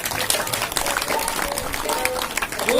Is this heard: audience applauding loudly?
yes